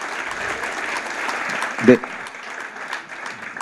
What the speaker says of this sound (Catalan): un fort aplaudiment, sisplau, per tot